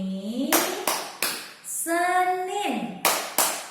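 Hands clap in a children's clapping chant, with crisp individual claps spaced in a rhythmic pattern and a pause where a voice sings a drawn-out chant phrase, then a quicker run of claps near the end.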